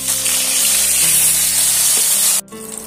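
Pieces of rohu fish fry loudly in hot oil, a dense close sizzle with stirring or turning noises, dropping off sharply near the end before resuming more quietly.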